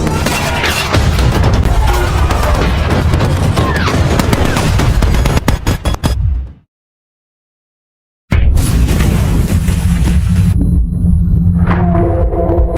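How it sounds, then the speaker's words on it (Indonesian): Dense battle-scene gunfire and explosions in a film, loud continuous bursts and booms for about six seconds, then a sudden silence of nearly two seconds before the chaotic firing and rumbling resume. "Ledakan dan tembakan datang dari segala arah."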